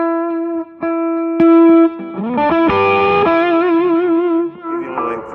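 Sustained electric guitar notes and chords heavily distorted by a gritty tone from an Xotic EWS Fuzzy Drive pedal, ringing out loud and alone with a few bends and slides.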